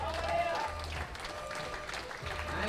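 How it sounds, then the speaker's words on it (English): Audience applause for a climber who has just fallen at a bouldering semi-final in Graz, a steady crowd clapping texture lasting throughout, fairly faint and distant, with a low hum underneath. "But gets awarded a really strong applause."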